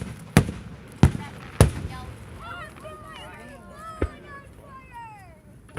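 July 4th pop rocket fireworks bursting close by, several sharp loud bangs in quick succession followed by a later one, with children's voices and chatter in the background.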